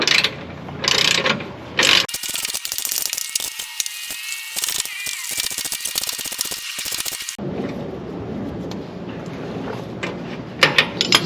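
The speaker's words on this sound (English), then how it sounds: "we'll use the open-end wrench on the back because of the limited space, and then we'll go ahead and get that tightened" Open-end wrench tightening a bolt on a Bison off-road stop cam kit, heard as a steady run of close, dense ratcheting clicks in the middle of the clip, with short bursts of handling noise and clatter before and after.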